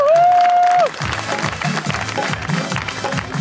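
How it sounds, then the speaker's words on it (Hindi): An audience claps warmly to welcome a guest onto a talk-show stage, the steady applause opening under a brief sustained electronic tone. "आप लोगों की भरपूर तालियों आप लोगों की मोहब्बत के साथ इनको बुलाना चाहूँगा स्टेज पे सायरा यूसफ"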